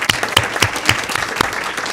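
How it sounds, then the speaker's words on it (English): A school board meeting audience claps for the facilities staff, a short, sparse burst of separate hand claps with a few distinct loud smacks. "And so big thanks and a round of applause to them as well."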